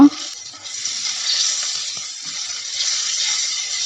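Green and red chillies fry in a pan for a dried-fish bharta, giving a steady close hiss of sizzling with a few soft stirring scrapes and no talk.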